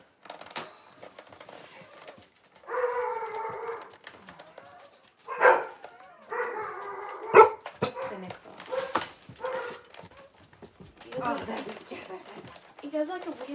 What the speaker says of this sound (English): He does like a weird bark when he's alert barking